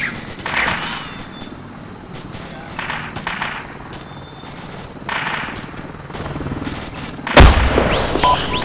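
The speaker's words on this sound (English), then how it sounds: "Frag going in." Gunfire bursts rattle through a military exercise, ending in a sharp, loud frag grenade blast near the end, with scattered distant shots and a helicopter-like rumble beneath.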